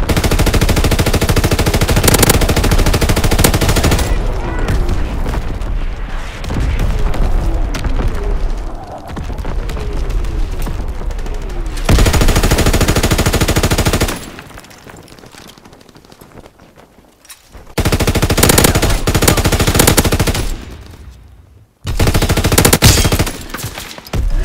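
An artillery battery firing in Call of Duty WWII: long stretches of loud, dense gunfire and booming blasts, broken by brief quieter gaps, with no clear talking.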